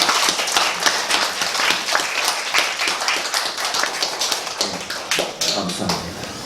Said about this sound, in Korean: 오늘 예배 참석하신 3분들 특별히 우리 감사함에 박수하겠습니다